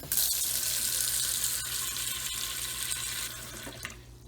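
Steady rush of tap water running into a sink, continuous and fairly loud, easing slightly toward the end.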